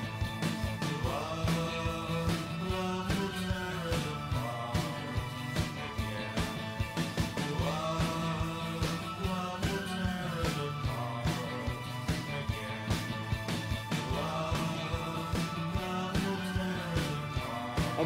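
Joy Division's "Love Will Tear Us Apart" plays as a full band recording, with steady drums, bass, guitar and synth lines repeating through the passage at a moderate, even level, with no talking over it.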